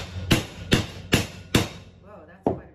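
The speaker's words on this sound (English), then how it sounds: "I have to hammer them so that they will stay." A hammer strikes a block of wood at a steady pace, four sharp, close knocks, then a short pause and one more blow, with a faint voice murmuring between them.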